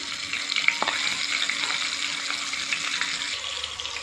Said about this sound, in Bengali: তেল ইলিশ খাবো, হালকা করে ভেজে নিয়ে আসছি